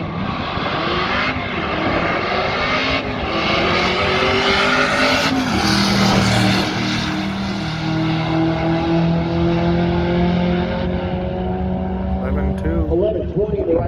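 Stick-shift full-size trucks drag race at a strip: a loud, close engine roars and climbs in pitch through gear shifts, with the revs dropping and rising again for nearly fourteen seconds.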